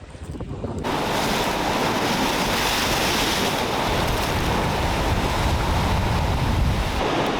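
Ocean waves wash onto the shore in a continuous roar, with heavy wind buffeting the microphone, loud and close throughout.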